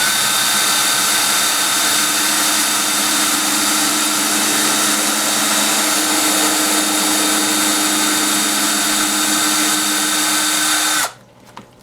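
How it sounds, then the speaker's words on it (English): A power drill whines steadily at high speed for about eleven seconds drilling a pilot hole in wood for a guinea pig cage, loud and close, then cuts off suddenly. "I'm going to pilot drill this so that way I don't tear the wood all up."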